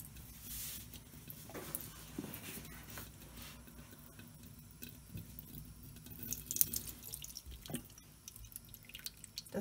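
Warm water runs and drips steadily into a baby bath for a silicone baby doll, a continuous close splashing trickle with occasional louder drops and no talking.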